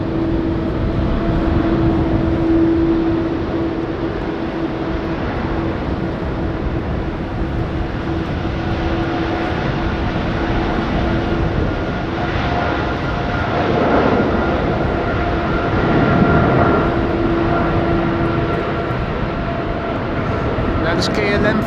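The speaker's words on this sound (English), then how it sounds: "That is KLM flight 877 that you saw going to Mumbai. A330." A KLM Airbus A330 airliner taking off at Schiphol in stormy, windy weather gives a loud, sustained engine roar with a steady whine throughout, while a voice talks over it.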